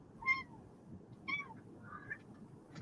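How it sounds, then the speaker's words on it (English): A cat meows indoors during a horse riding discussion: three short, fairly faint meows spaced about a second apart, heard alone against quiet background hiss. "Yeah, there is a cat meowing."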